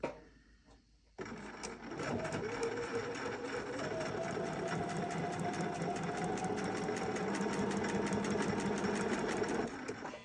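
A sewing machine stitching quilt fabric for a candy cane block starts after a brief quiet moment, then runs in a steady, close, rhythmic mechanical hum and rapid needle chatter for several seconds before stopping.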